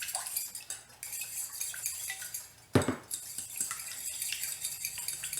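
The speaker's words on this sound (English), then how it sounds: "Just stir it up a little bit." A spoon stirs banana pudding in a pot, with repeated scraping and clinking of metal against the pot, a brief louder clatter midway, and no talking.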